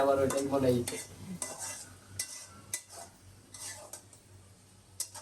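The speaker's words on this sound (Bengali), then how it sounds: "লাউ ভাজি হচ্ছে" Bottle gourd (lau) fries in a pan with a quiet sizzle, broken by repeated scraping stirs and light clinks of a utensil against the pan.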